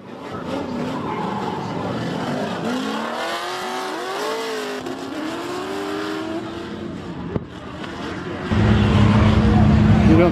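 A 1,000-horsepower twin-turbo race car at a drag-racing car show revs and squeals its tires, its engine note rising and falling over crowd noise and talk, then a steady loud rumble takes over near the end.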